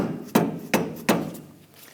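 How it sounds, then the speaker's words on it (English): A dead blow hammer knocks a wheel hub assembly into the front knuckle of a 2006-2010 Hummer H3, three solid evenly spaced taps, close and loud, with a short ring after each. "So I'm just using my dead blow hammer."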